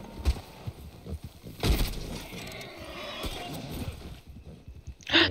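A horse in the video game Red Dead Redemption Online neighs and whinnies loudly in a few sharp bursts, with hoof clip-clops and game ambience in between and no talking.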